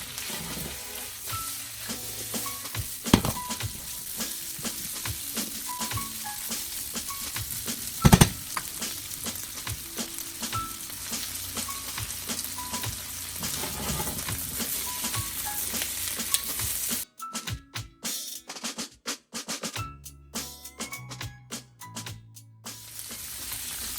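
A stir fry with teriyaki sauce and green onion shoots sizzles loudly and steadily in a pan under stirring, with a sharp utensil clatter partway through and a choppier, broken sizzle toward the end.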